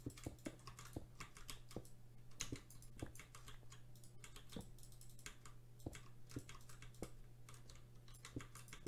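Keys clatter on a computer keyboard in quick, irregular bursts of clicks, close but quiet, with short pauses between runs of typing.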